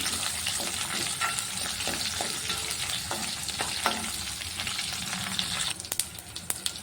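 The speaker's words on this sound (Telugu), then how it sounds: "అలాగే కరివేపాకు మనం కట్ చేసి పెట్టుకున్న పచ్చిమిరపకాయలు వేసి వేయించుకోవాలి" Curry leaves and green chillies fry in hot oil with cumin for a chutney, a steady loud sizzle with crackling pops and spatters throughout, brief stirring scrapes and sharper spits near the end.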